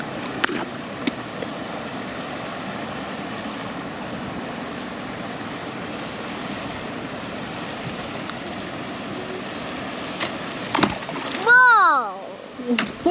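Barramundi splashing at feeding time on a fish farm, a steady wash of water noise with a loud splash burst near the end while voices talk over it.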